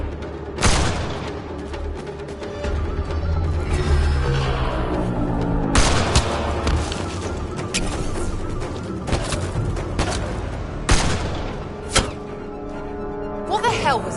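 Gunfire and heavy booms in a firefight in the Mass Effect Andromeda game, with loud repeated shots and blasts spread across the stretch while voices shout and talk over the combat.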